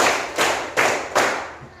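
Children clapping their hands in unison during a counting game in a classroom, four sharp group claps at an even pace with no voices between them.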